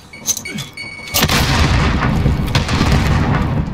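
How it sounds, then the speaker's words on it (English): A grenade detonates in the Call of Duty Modern Warfare multiplayer match on the Backlot map, a sharp booming blast followed by a sustained rumbling roar, loud and close, with a few earlier pops of gunfire. "Grenade out!"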